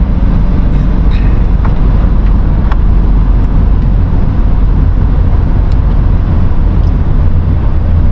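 An Izh motorcycle rides at about 90 km/h, producing a loud, unbroken engine and wind roar that stays constant throughout.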